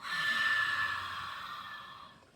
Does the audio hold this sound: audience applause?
no